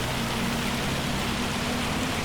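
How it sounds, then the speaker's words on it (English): Steady rain in Farming Simulator 25 hisses as a dense, even wash of noise, constant and fairly loud across the whole stretch, with no talking. "Oh yeah, we are having some rain."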